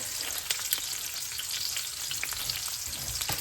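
Chopped onion and garlic frying in a very hot pan give off a close, steady sizzle, dotted with small crackles and brief scrapes of a spatula, with no voices.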